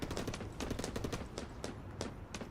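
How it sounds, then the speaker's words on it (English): Rapid gunfire in a tactical shooter video game match, with bursts of sharp automatic shots and scattered single cracks in quick succession at moderate loudness and no talk. "So we're seeing here, Hemdall sees gunshots. He's trying to lay a bit of fire in"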